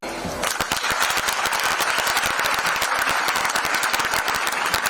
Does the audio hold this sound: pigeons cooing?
no